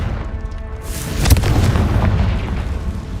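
A Confringo blast spell in Hogwarts Legacy erupts as a deep booming explosion, a sharp burst followed by a rumbling, sustained roar that fades slowly.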